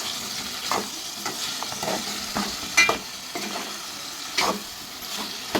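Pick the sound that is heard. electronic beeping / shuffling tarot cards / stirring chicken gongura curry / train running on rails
stirring chicken gongura curry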